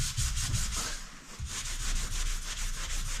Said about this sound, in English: I'm going to take a pretty fresh gray Scotch-Brite pad. I'm going to start polishing it this way.